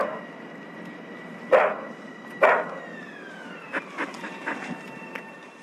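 A dog in a film about a loyal dog waiting at a train station barks a few times, two sharp barks followed by a quicker series of fainter yelps over a low background hum.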